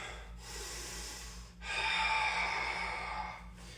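Two long, deep breaths from a person holding a warrior 2 pose in a vinyasa yoga flow, a softer inhale followed by a stronger, airy exhale, close and alone over a low room hum.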